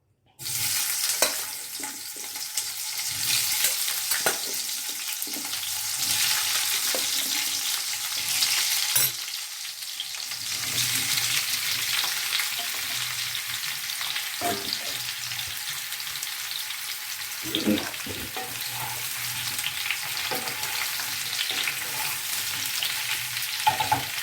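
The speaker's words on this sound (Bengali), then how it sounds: "এবারে আমি আলুগুলো দিয়ে আলুটা ভেজে নেবো" Potatoes frying in hot mustard oil in a kadai, a steady loud sizzle with occasional stirring scrapes, no talking.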